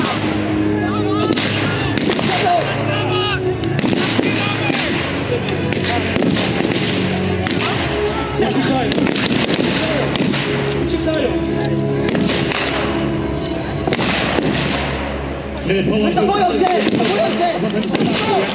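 Gunfire crackles through a 2018 historical battle reenactment at Jastrowie, rapid irregular shots and booming blasts going on throughout, loud and dense, with people shouting over the din.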